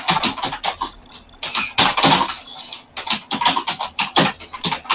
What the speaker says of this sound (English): I hear big typing.